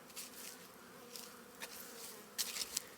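Honeybees at an apiary in late winter, a soft continuous buzz of insects with a few brief louder passes close by, no voices.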